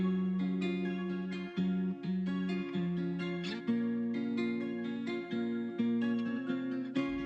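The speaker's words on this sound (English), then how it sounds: "Together, all 3 guitars will sound like this." Three layered guitars, the original doubled an octave up and an octave down, play a mellow stepwise melody together, steady and moderately loud with no talking.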